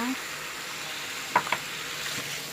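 Red curry paste sizzles in a pan for a Thai roast duck curry, a soft, even frying hiss with a couple of light utensil clicks as it is stirred.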